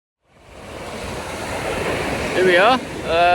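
Sea waves washing onto a beach after rain, a broad steady roar of surf with wind buffeting the microphone, and a brief voice near the end.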